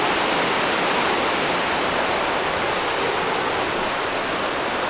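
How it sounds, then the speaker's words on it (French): A river rushes along the floor of a gorge below, producing a loud, unbroken roar of flowing water that stays constant throughout. "Et la rivière ici en dessous."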